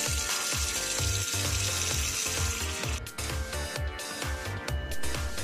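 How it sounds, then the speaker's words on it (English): Water poured into a steaming pot for cooking scallops, a continuous splashing, gushing rush with clattering metallic knocks, close and loud throughout. "Put some water into the steaming pot."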